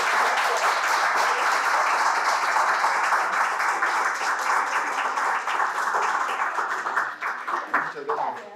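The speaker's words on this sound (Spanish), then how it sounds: "Un fuerte aplauso para ella por..." An audience at a seminar applauds, dense sustained clapping that stays loud for several seconds before thinning out and fading near the end.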